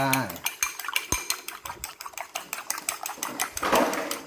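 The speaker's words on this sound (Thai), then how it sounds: "ตีไข่ลงไปนะครับ" Eggs being beaten in a bowl for a curry-powder shrimp stir-fry, a quick run of close, regular clinking strokes of utensil against the bowl, brisk and continuous, with no talk.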